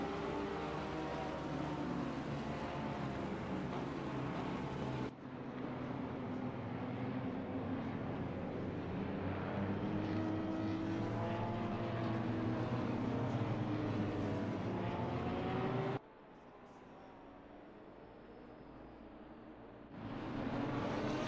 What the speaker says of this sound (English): Here we hear all the engines roaring, starting up in the background